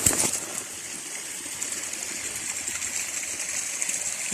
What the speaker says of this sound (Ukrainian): Водичка тече.